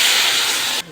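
Water poured into a hot pot of sautéed basmati rice with bay leaf, cinnamon, cloves and kabsa spices, for chicken mandi, bursts into a loud, close, steady hiss that cuts off sharply after under a second.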